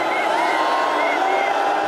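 Large stadium crowd at a football match awaiting Messi, a dense continuous roar of many voices with shouting and jeering, loud and unbroken throughout.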